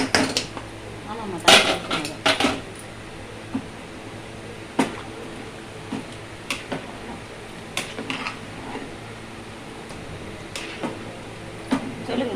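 Rice grains rattle into a metal pot of boiling water for biryani, followed by scattered clinks and scrapes of stirring over a steady background hum, with a voice speaking Tamil now and then.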